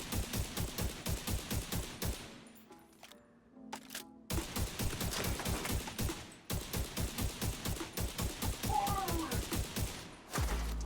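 Rapid automatic gunfire in The Division 2 rattles in steady, evenly spaced bursts, breaking off for a couple of seconds before resuming loud and close, with a voice talking faintly over the shooting.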